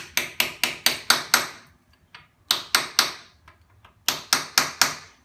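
Hammer tapping a countershaft seal into a motorcycle engine case: three bursts of four to six sharp, evenly spaced metallic knocks, close and loud, separated by brief quiet pauses.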